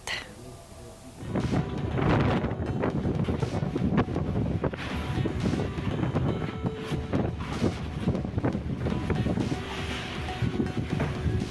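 Strong wind with heavy rain buffets the microphone in a steady, roaring rush with gusty swells, loud and close, continuing throughout, in Bogor, West Java.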